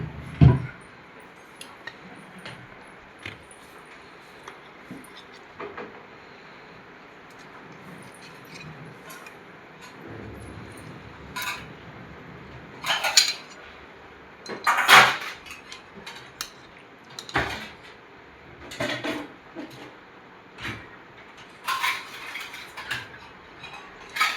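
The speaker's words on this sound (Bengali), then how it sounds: "এবার আমি বেড়ে দিচ্ছি" Bhetki fish kalia served onto a plate, with scattered metal utensil clinks and taps against dishes, some sharp and close, spread irregularly over a quiet kitchen background.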